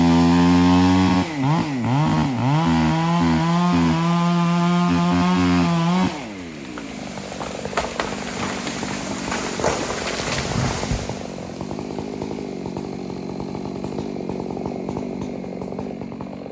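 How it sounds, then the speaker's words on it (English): A chainsaw roars loud and close, its pitch wavering as it bites into a hickory tree, then drops to a rougher, lower grinding drone as the cut continues. "I went and finished on cutting it on off with the chainsaw."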